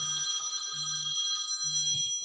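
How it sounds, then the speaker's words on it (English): An incoming phone call sets a telephone ringing, a clear electronic ring tone repeating in three regular bursts over a steady high tone, fairly close and with no talk over it. "Now I got a phone call."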